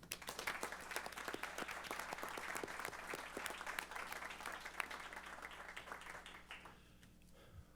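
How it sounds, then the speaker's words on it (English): Round of applause at a transportation authority board meeting, a modest room of people clapping briskly with distinct individual hand claps, steady for several seconds before tapering off quickly into quiet hum. "I'd like to have a round of applause for all of them."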